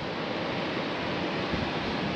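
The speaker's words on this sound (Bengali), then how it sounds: "প্রচণ্ড হাওয়া।" Strong wind and surf on Mandarmoni Beach in West Bengal, a steady, dense roar of waves and gusting air that fills the whole stretch without a break and with no voices.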